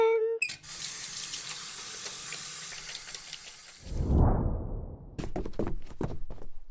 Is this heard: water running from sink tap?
yes